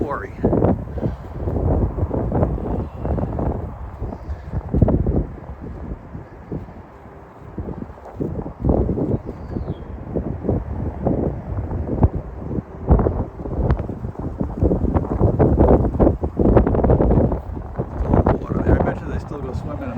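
Strong wind at an abandoned quarry with leftover water, roaring and buffeting against the microphone in heavy gusts, while a person talks throughout over the blustery noise.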